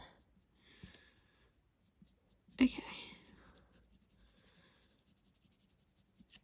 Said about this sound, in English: Just like sketching it in a bit.